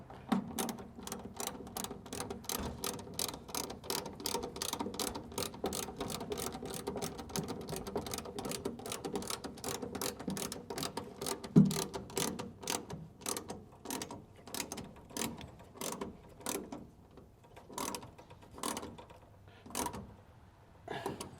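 A bed-front MOLLE panel is tightened down with a ratchet, making a long run of steady, rapid clicks close by that later slow into spaced, uneven clicks as the fastener snugs up, with no talking.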